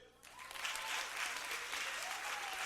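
A church congregation breaks into applause, a dense, sustained clapping that starts abruptly and carries on evenly at moderate distance.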